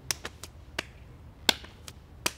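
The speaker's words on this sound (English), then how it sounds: "we get a quick clap?" A run of quick, sharp hand claps, crisp and close, comes in uneven bursts spaced across a couple of seconds in an otherwise quiet room.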